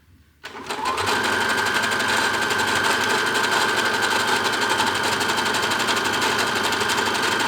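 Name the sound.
sewing machine stitching a zigzag buttonhole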